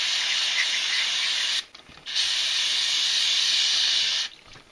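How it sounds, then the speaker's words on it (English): Two long bursts of aerosol degreaser spray hiss steadily and close up, separated by a brief pause, with no voices. "So we'll spray it down some, get the grease off of it"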